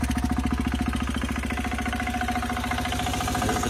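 Turbocharged Polaris diesel engine with a straight pipe, running at a steady idle with a rough, pulsing chug and loud close exhaust note throughout, no talking.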